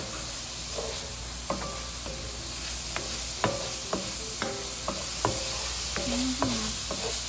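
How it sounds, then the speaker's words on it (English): Garlic fries in a pot with a faint continuous sizzle, broken by a series of sharp scraping clicks from a utensil stirring it in an irregular rhythm. "We're gonna cook that up for about a minute. We don't want our garlic to burn."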